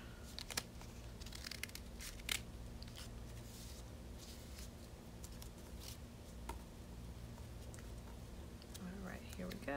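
Scissors cut paper for a koi kite at close range, a few faint crisp snips and crinkles at irregular intervals over a quiet background, with a soft voice near the end.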